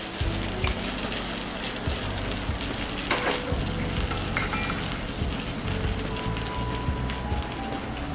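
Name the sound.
meat frying in butter with garlic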